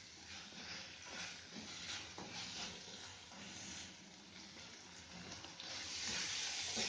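Spices for a potato and capsicum (aloo shimla mirch) curry sizzle steadily in a pan over medium heat while being stirred, a continuous close hiss and crackle with faint scraping throughout.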